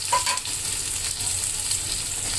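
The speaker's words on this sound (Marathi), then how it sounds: "कांदा आपण ब्राऊन होईपर्यंत असा तळून घेतलेला आहे" Onion, cumin seeds and tomato fry in a pan for paneer bhurji, giving a steady, close sizzle with a brief brighter crackle near the start and no talking.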